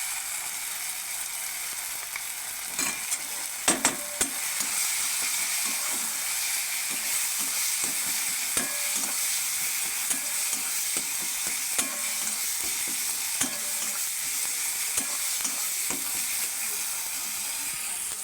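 Masala spices frying with chili and turmeric powder in a pan, a continuous loud sizzle and hiss with scattered sharp clicks and scrapes of stirring, no talk.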